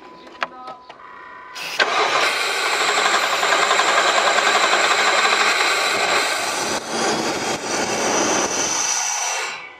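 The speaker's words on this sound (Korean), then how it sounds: "시동 걸리죠." An LPG-converted Dodge Dakota engine cranks briefly after a few clicks, then catches and roars into a loud, steady idle that runs for several seconds before dropping off near the end.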